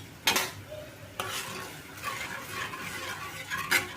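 Moringa drumstick soup seasoned with pepper, salt and sugar is stirred in a pot: a few sharp scraping strokes at the start, middle and end, with a soft bubbling wash between them and no talking.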